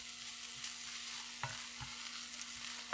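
Minced garlic being stirred into vegetables in a frying pan, a soft steady sizzle with a few scraping strokes of the utensil, close and alone.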